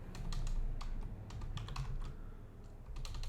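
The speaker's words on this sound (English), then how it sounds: "or you can type contact us like so" Quick bursts of keystrokes clatter on a computer keyboard, close and fairly soft, in an uneven typing rhythm with short pauses.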